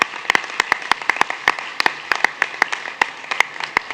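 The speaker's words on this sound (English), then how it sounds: "one big round of applause for this accomplishments" Applause at a school board meeting, scattered individual claps from a modest crowd with an uneven rhythm, fairly close and clear, with no talk.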